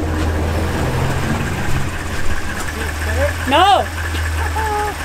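A car engine idles steadily with a low, constant hum while a lifted wheel spins during a differential test, and a brief speaking voice comes in over the running motor.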